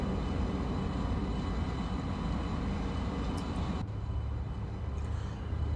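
A TGV Euro Duplex runs in the Open Rails train simulator, giving a steady low rumble and rolling hum that shifts tone partway through, continuous and without speech.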